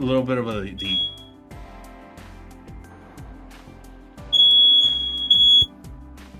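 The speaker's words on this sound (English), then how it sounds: "that's what caused the fire alarm to go off" A smoke or fire alarm sounds in a home kitchen, its shrill tone sounding in two loud bursts near the end. A voice talks over steady background music earlier.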